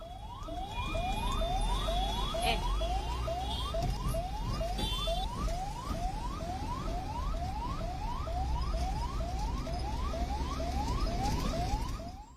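A 108 ambulance siren wails, sweeping up repeatedly in quick, regular cycles over steady city traffic rumble in Surat, loud and close for the whole stretch.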